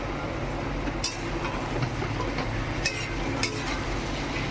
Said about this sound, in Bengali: চিকেনটা দিয়ে খুব ভালো করে নেড়ে চেড়ে মশলাগুলোর সাথে